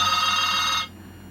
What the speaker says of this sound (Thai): ก็มีโทรศัพท์